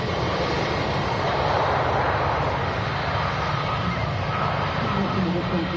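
Aircraft engines roar steadily at Manchester Airport as a plane passes, a loud, broad, continuous rush filling the whole stretch without letup.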